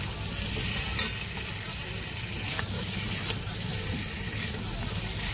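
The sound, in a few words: stirring fried pointed gourd and potato in spice paste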